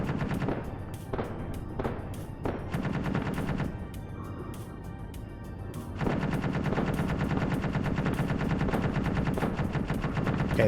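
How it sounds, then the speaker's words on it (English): Gun turrets in a video game fire at a base in rapid machine-gun bursts. The shots pause briefly midway, then return as sustained, dense automatic fire. "the other guns are firing too"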